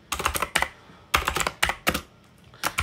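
Fingers typing a command on a computer keyboard, in quick clattering bursts of keystrokes separated by short pauses, close and clear with no talking.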